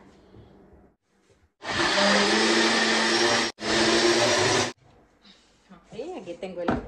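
A countertop blender whirs loudly on sliced zucchini with skins on for tortillas, two sustained bursts with a brief pause between them, framed by someone speaking Spanish before and after.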